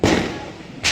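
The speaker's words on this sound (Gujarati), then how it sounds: "ફટાકડા ફોડી રહ્યા છે." A Diwali firecracker goes off in a sharp, loud burst that decays through a noisy tail, with a second crack starting just as the moment ends.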